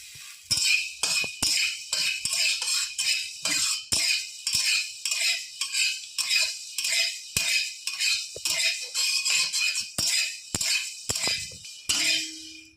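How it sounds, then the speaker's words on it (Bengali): Whole coriander seeds dry roasting in a hot wok with no oil, a spatula stirring them in a steady run of quick metallic scrapes and clinks, close and fairly loud, with no talking. "শুকনো খোলায় একটুখানি আমি গোটা ধনে টেলে নেব"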